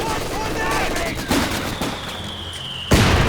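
A Vickers machine gun firing in Company of Heroes 2, scattered gunfire and impacts under a voice, ending in a sudden loud burst.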